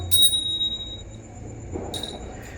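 A small prayer bell rings with a bright, lingering tone during a Hindu aarti at a home Krishna puja, then is struck again about two seconds later against a quiet background.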